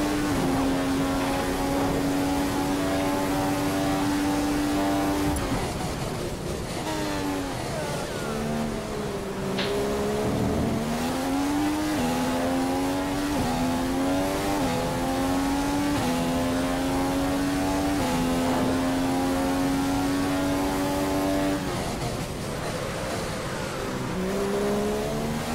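A Formula 1 car engine screams through a qualifying lap of Bahrain in the F1 2015 racing game, loud and continuous, its pitch climbing through each gear and dropping sharply on downshifts into the corners.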